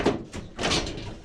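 A door at a scrap yard closes with a couple of dull knocks and a heavier thud, brief and fairly quiet, with no voices over it.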